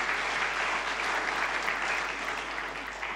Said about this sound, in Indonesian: Tepuk tangan bagi Tuhan kita.